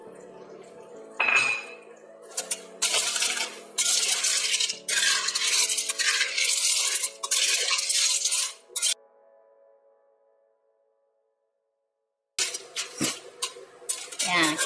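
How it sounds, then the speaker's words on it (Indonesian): Thick coconut milk goes into a pan of cooking sea snails and is stirred, giving a busy run of metallic clinks, scrapes and clatter that stops abruptly, then a short quiet before more clanking. "Saya mau tambahkan santannya ya, santan kentalnya kita tuang saja."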